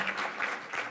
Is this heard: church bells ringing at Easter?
no